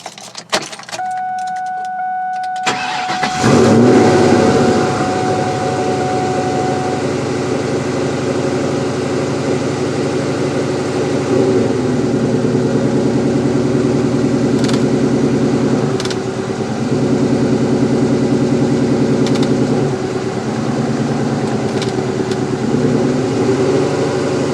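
A car engine starts with a brief crank, then settles into a steady low idle that hums on evenly for a long stretch.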